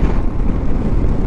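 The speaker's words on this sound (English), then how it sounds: "Oh, it's quite windy today." Wind buffeting a microphone on a motorcycle trip, a loud, close, low rumbling rush lasting about a second with no talking.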